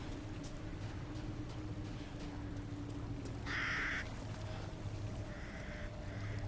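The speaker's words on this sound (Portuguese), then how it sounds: "Saíram corvos voando." Crows in Resident Evil Village caw loudly in a short burst of two or three harsh calls over a low steady ambient drone, a couple of fainter caws following.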